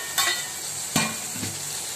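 Onion and tomato sautéing in a pan over a low, even sizzle, broken by three distinct spatula scrapes or stirs, for a mutton dalcha.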